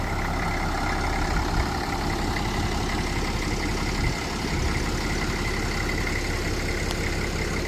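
A Case tractor engine idles steadily and loudly, a constant low rumbling chug with no other sounds.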